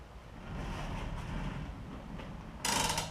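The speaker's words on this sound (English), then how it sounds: "When you hear the series of clicks as I'm pulling it out, that means that the cord is locking in place." A 50 ft retractable cord reel ratchets as the cord is pulled out, a quiet run of small mechanical clicks followed by a brighter, louder clatter near the end.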